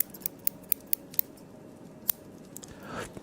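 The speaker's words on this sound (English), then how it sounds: "we found the scissors" Several crisp metallic snips of scissors, quick and evenly spaced at first, then one more after a pause, close up with faint handling noise after.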